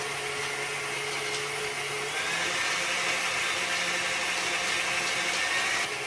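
An electric mixer beats teacake dough made with shortening, a steady, fairly quiet motor whir with a slight rise in pitch partway through, no talking.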